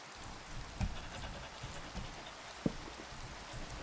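Rain falling in the video game Minecraft, a soft continuous patter with a few sharper drop ticks, moderately quiet and even, with no voices over it.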